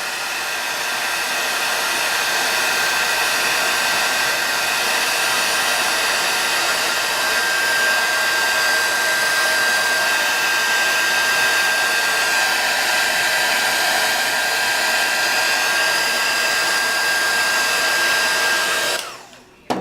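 A hair dryer blows steadily at close range, drying gesso brushed onto a magnifying glass, a loud continuous whoosh with a faint tonal whine that cuts off abruptly at the end.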